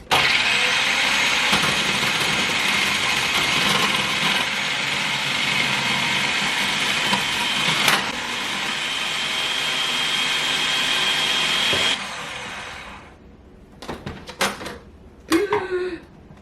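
A kitchen blender whirs loudly while potatoes are prepared for latkes, running steadily for about twelve seconds before cutting off, followed by a few scattered clatters and knocks.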